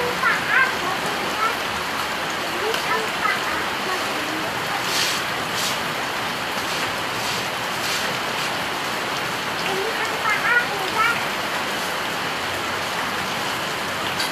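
Continuous rain falling on surfaces, a constant dense hiss of drops with a few faint chirps and small bumps scattered through it, no clear talk.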